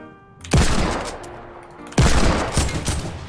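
Video game gunfire sounds as two loud close blasts about a second and a half apart, each with a long decaying echo, then a few smaller shots, with no talking.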